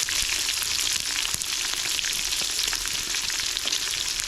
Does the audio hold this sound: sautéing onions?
yes